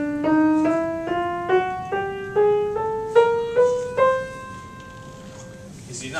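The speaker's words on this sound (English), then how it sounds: "one chromatic scale would sound like this." An ascending chromatic scale climbs by half steps, each pitched tone struck in turn at a steady, moderate pace, sounding clear and alone with soft decays between notes.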